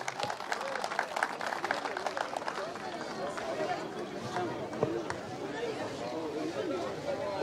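A crowd at a village association's annual plaque ceremony applauds steadily for a new speaker, with the clapping mixed into a continuous murmur of voices and chatter throughout.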